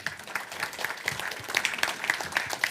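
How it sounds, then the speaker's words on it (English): Steady applause from an audience at the Huawei Digital Talent Summit 2023, continuous moderately loud clapping with a few sharper individual claps standing out throughout. "Please give a round of applause again for this event"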